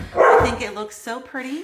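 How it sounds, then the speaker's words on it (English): A pet dog barks indoors at home, playing with a cat during a fall candle-making session; one loud, close bark lands early, followed by someone talking. "if you hear my dog barking"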